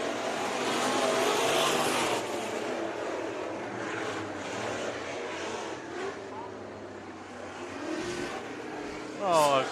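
Race cars roar through the finish of a heat race at Bakersfield Speedway, a loud sustained engine drone with cars sweeping past, while an announcer calls the action over the noise.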